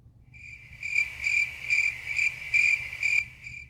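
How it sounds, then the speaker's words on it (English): A cricket chirps in a steady pulsing rhythm, bright repeated trills close and clear against an otherwise quiet background. "Maybe I'll just put crickets."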